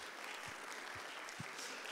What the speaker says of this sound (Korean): 우리 두 목장 박수로 한번 격려하도록 하겠습니다.